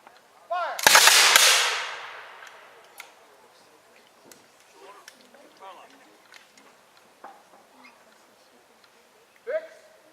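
A reenactment unit fires a single sharp rifle volley, one loud crack-like blast that rolls away over a second, followed by quieter clicks and a voice giving commands.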